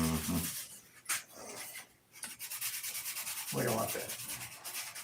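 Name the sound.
sanding a model wing held in a vise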